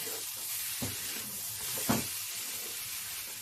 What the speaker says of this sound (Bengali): টমেটো সসটাকে দিয়েও ভালো করে নাড়িয়ে ছাড়িয়ে নেব।